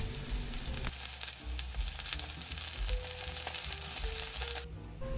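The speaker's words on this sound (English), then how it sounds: "Flip it over back and forth and cook it until golden brown." Korean green onion pancake (pajeon) fries in an oiled homemade pan with a steady, close sizzle and crackle that runs throughout, over a low rumbling undertone.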